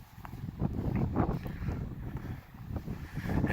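Wind buffets the microphone on the summit of Guadalupe Peak in Texas, a steady, fluctuating rumble that swells and dips without pause across the whole moment, close and moderately loud.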